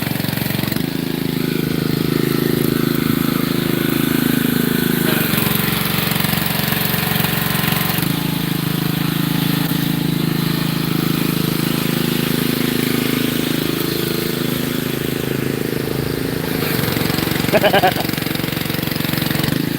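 A truck engine with straight exhaust headers idles steadily with a deep, rumbling exhaust drone that persists throughout, while voices talk faintly over it.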